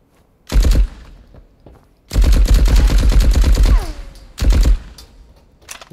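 Gunfire from weapons in the Marauders shooter game: three loud automatic bursts, a short one, a long sustained stream, then another short burst, with quieter thuds between and no talking.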